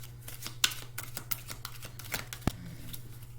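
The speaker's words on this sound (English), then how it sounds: "And I'm shuffling." Tarot cards being shuffled by hand, a quiet run of soft riffling flicks and taps in irregular rhythm over a steady low hum, with one sharper knock partway through.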